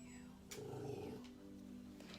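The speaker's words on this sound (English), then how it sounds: "My dogs are growling in the background" Pet dogs growl low and continuous somewhere in the background of an indoor room, a faint rumbling with a couple of brief louder yips, heard at very low volume.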